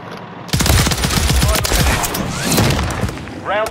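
Battle rifle gunfire in a video game bursts in loudly after a brief quiet lead-in, a rapid, continuous string of sharp, close shots that runs to the end, with a voice briefly audible.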